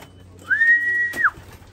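A racing pigeon arrives home at the loft after an over-sea race: one clear, sustained whistle-like tone about three-quarters of a second long, close and fairly loud, rising at the start and falling at the end.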